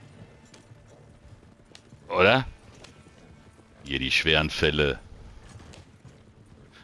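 In Red Dead Redemption 2, a horse's hooves clip-clop steadily as it pulls a wagon, a soft rhythmic patter beneath two short bursts of someone talking in German.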